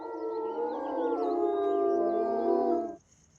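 Timber wolves in Austria howl together in several long, overlapping, wavering tones for about three seconds before cutting off abruptly into quiet.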